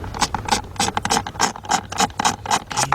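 A ratchet wrench backing bolts out of a 2005 GMC Sierra pickup, giving rapid, rhythmic clicking strokes, close and loud, in steady repeated bursts.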